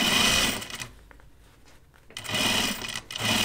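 A sewing machine stitches through vinyl in close, loud bursts of rapid mechanical whirring, pausing for about a second in the middle before starting up again.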